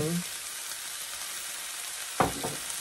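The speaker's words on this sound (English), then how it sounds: "I have 2 tablespoons of all-purpose flour. I'm going to add in here and brown" Two tablespoons of all-purpose flour brown in a frying pan with a constant close hiss of frying, broken near the end by a couple of brief scraping stirs.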